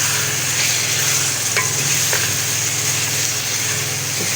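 Garlic-ginger paste fries and is stirred in a pan while cooking keema matar, giving a steady close sizzle broken by scraping stirs.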